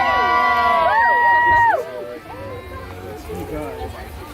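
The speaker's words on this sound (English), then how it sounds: "just go ahead and cheer him on" Crowd at a rally cheering, loud drawn-out shouted voices ringing out first, then fading into a broader mix of cheers and crowd noise.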